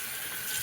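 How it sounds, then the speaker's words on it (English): Water runs steadily from a faucet as the face is wetted before a shave, a brief, close, even hiss with no voices. "Let me go ahead and wet the face really quick."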